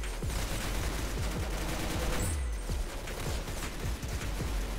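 Rapid bursts of gunfire from the Roblox game Arsenal crackle continuously and fairly loud, repeated shots overlapping with no talking.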